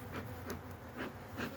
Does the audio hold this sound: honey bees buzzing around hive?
yes